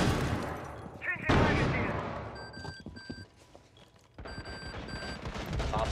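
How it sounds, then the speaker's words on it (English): In Rainbow Six Siege, a flashbang grenade goes off with a sharp, loud burst amid gunfire. A high steady ringing follows, cutting in and out over rumbling noise, with voices heard nearby. "Flashbang away!"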